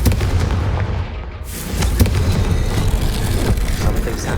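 A Confringo blasting curse explodes in the video game Hogwarts Legacy: a sudden broadband boom bursts out about a third of the way in, then a loud, rumbling spell-and-combat din carries on to the end.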